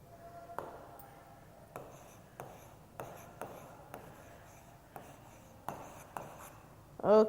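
Pen writing on paper during an English lesson, a series of short scratchy strokes and taps spaced through the clip, faint and close, with a brief louder sound at the very end.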